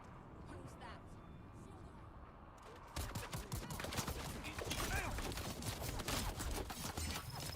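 Dense bursts of rapid gunfire in the video game Dune Awakening, loud and close after a quieter opening stretch, with a voice talking over the shooting.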